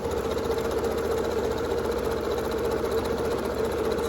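A sewing machine stitching quilt fabric at a quarter-inch seam, running as a steady, fast mechanical whir with even rapid stitching, close up and continuous, with no voices.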